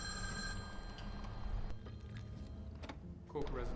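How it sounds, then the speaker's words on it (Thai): Telephone bell ringing in the video game Erica, a repeated electronic ring over a steady low game ambience with no talk. "รับโทรศัพท์สิ ใครโทรมาเนี่ย"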